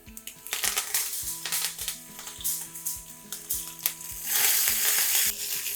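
Curry leaves and lentils crackle and sizzle in hot oil while being tempered, with sharp popping bursts and a hiss that swells louder near the end.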